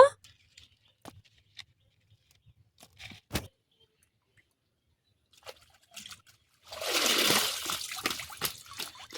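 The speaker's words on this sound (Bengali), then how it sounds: "মাছগুলোকে ভালো করে জল দিয়ে ধুয়ে নেব।" Cut fish being washed with water, scattered small clinks and handling noises giving way to a close rush of pouring, splashing water.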